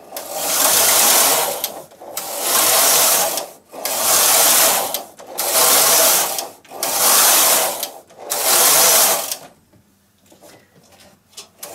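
A Singer knitting machine's lace carriage is pushed back and forth across the bed, six long whooshing, rattling passes of about a second each, close and loud, then a short quieter stretch of mechanical shuffling.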